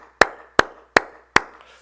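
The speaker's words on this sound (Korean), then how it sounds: "우리 하나님께 감사와 영광의 박수드립니다" Four sharp, evenly spaced claps ring out close by with a short room echo after each, at a Korean church's early-morning prayer service, with no talk over them.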